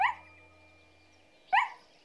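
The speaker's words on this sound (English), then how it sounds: "Just then she heard the sound of barking." A dog barks twice, about one and a half seconds apart, each bark short and fairly close, with quiet stillness in between.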